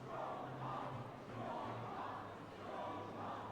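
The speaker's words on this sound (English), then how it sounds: "They're cheering for him?" A crowd cheering for Lord Strongheart in a courtroom game scene, a sustained roar of many voices swelling and dipping in waves, moderately loud and continuous.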